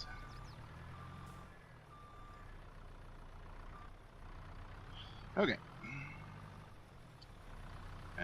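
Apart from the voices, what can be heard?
truck arriving with reversing beeps in Farming Simulator video game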